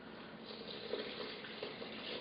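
Water at about 81 degrees pours steadily into a sourdough starter, a continuous close splashing stream with no talking.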